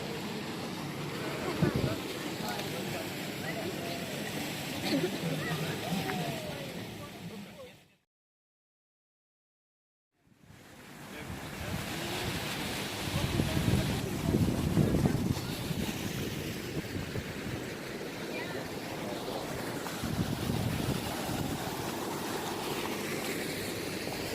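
Tour boat gliding along the canals of Bruges, with steady water wash and wind rumble on the microphone throughout, a brief silent gap early on, and voices talking over the outdoor noise.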